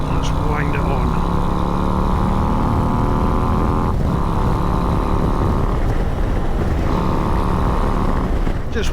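A 2022 Harley-Davidson Street Glide ST with Ohlins suspension pulls hard on an open country road, its engine a loud steady roar with wind rush, holding one pitch before easing and climbing again.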